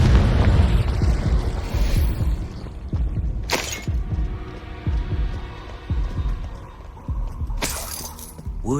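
Confringo blasting spells from the Hogwarts Legacy video game burst out as two sharp, loud explosive cracks amid a throbbing, booming low rumble and a dense clatter of combat.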